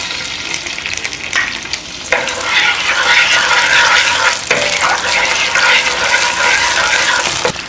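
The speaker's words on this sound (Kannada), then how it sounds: "ಹಾಲು ಆಡ್ ಮಾಡ್ಕೊಳ್ಳಿ" Milk poured into a hot pan while making a sweet, a loud hissing, bubbling sizzle with splashing that swells suddenly and keeps going up close.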